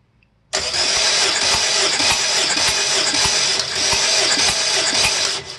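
A Honda K20A2 engine cranks over during a compression test, starting abruptly and whirring loudly and steadily for about five seconds with a faint rhythmic pulse, close up and with no talk.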